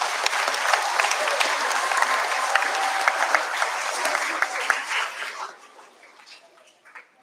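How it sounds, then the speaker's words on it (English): Audience at a school Grandparents Day assembly claps for the grandparents, a dense, steady round of applause that fades out over the last couple of seconds. "Can you give all the grandparents a round of applause for me, please?"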